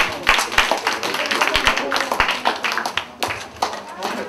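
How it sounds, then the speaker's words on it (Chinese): An audience at a church youth fellowship debate meeting claps in scattered, uneven bursts, with sharp individual hand claps standing out while people talk over them. "那大家给自己一个掌声好不好？"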